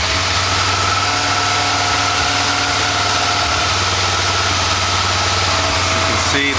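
A small engine runs at a steady idle with a constant low hum and mid-range harmonics, close and fairly loud, and a brief disturbance near the end.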